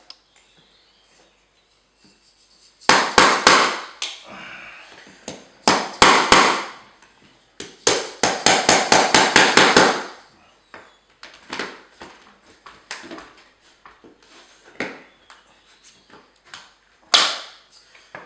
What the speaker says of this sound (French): Une fois que vous avez enlevé la première parclose, les autres vont sortir plus facilement.